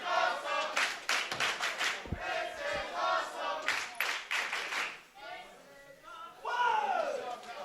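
A wrestling crowd at an RWA tag team championship event cheers, shouts and claps loudly, with rhythmic clapping bursts and yells under a commentator talking over it.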